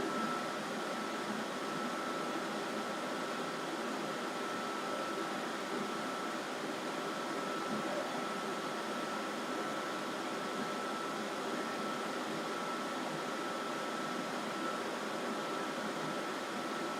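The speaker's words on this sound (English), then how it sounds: "It's gonna get smoky, so I need more fan." A steady, broadband whooshing drone of a running fan continues unbroken and even, with no voices or other sounds.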